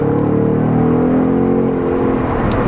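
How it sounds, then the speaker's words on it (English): A 2019 Ford Mustang Bullitt V8 rumbles loud and close through a downshift, its engine note sliding steadily, with a brief throttle blip near the end. "So let's nice little downshift and kind of throttle matching, little throttle bit."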